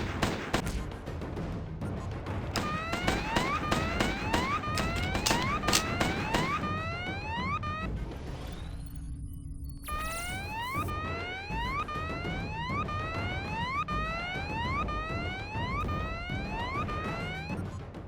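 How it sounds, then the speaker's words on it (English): Repeated rising electronic whoops of an alarm in the video game Dex: Enhanced Edition, cycling steadily and loudly, with a brief dark break before the pattern resumes and continues to the end. "The alarm sound is very annoying."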